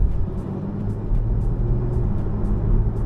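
A Porsche fitted with a plug-in performance box accelerates in sport mode, heard from inside as a steady, loud low engine rumble and road roar with no talking.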